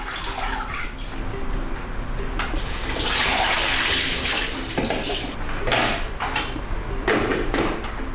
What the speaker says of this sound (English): Let's drain.